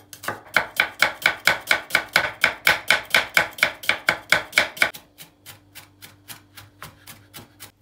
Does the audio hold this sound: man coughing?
no